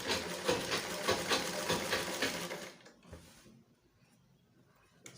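A sewing machine back stitches a smocked, shirred top in a steady, rapid mechanical whir that stops abruptly partway through, leaving near quiet and a light click at the end.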